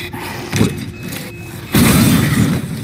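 A sudden explosion in the horror video game Resident Evil Village, a deep booming blast that jumps in loudly partway through and rumbles on over low game ambience.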